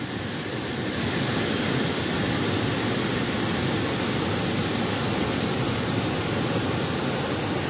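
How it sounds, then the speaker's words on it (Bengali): Heavy rain pours over a swollen, fast-flowing river in flood, a loud, unbroken broadband roar of water that holds steady from start to finish with no voices. "প্রচুর পরিমাণ বৃষ্টি হইতেছে।"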